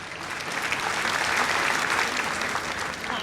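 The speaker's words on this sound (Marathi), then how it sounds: "तर ह्यांच्यासाठी प्लीज जोरदार टाळ्या द्या." An audience at a housing society's Gudi Padwa celebration claps together in steady, dense applause, a sustained wash of hands at moderate distance.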